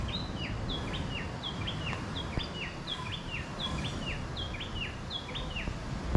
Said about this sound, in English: Good morning to you too, bird.